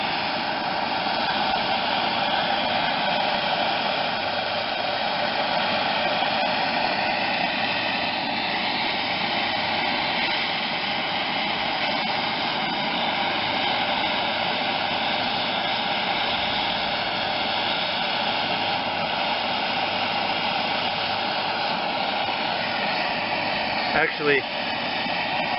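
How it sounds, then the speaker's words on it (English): A MAP Pro gas torch roars steadily while heating a steering spindle shaft on a 1986 John Deere 185 lawn tractor, a continuous close broadband hiss lasting throughout, with a person speaking briefly over it. "I'm using MAP Pro. Propane, MAP, whatever you got. Just heat it up."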